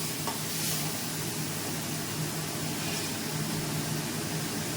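Peanuts dropped into hot oil fry with a steady, even sizzle that fills the whole stretch. A faint low hum runs underneath, and no one speaks.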